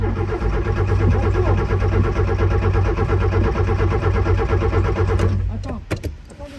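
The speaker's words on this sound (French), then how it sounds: "le moteur il tourne bien. Sans difficulté." The engine of an old, long-abandoned car runs steadily after restoration, a loud rhythmic idle near the microphone that cuts off at the end with a few clicks.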